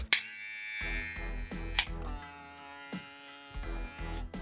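An electric hair clipper with a Vector motor and ZSZ blades buzzes steadily up close, a constant motor hum with its pitch wavering slightly as it runs. No voices.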